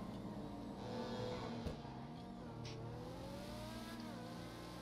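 A lowered car in the GTA 5 game drives and revs steadily, its mid-pitched engine droning close up with shifting pitch and a brief bump partway through; no talk over it.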